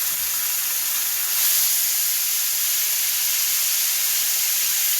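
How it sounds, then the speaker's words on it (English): Pork for tacos frying in a pan gives a steady, fairly loud sizzling hiss that holds evenly throughout, with no talking. "You want to fry that up."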